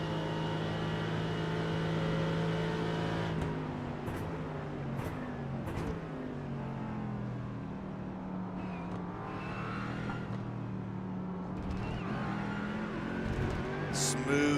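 Onboard race car engine from a GT Challenge sim racing game at the Mexico circuit, a steady loud droning roar that shifts pitch as the car brakes and accelerates, with a few sharp bursts over the continuous engine note.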